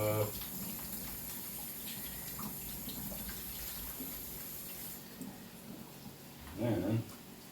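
Tap water runs steadily into a kitchen sink while a knife is rinsed under it, a constant close splashing hiss with a brief louder gush near the end.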